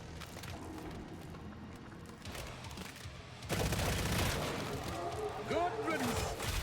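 Video game turret fire comes in bursts of rapid shots with booming impacts, louder in the second half, and other game effects mixed in; voices talk over parts of it.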